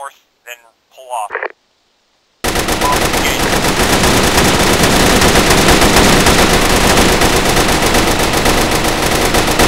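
Sustained, loud machine gun fire in the military video game Arma 3, a dense continuous burst that follows a few seconds of clipped radio-style talk and then runs alone to the end.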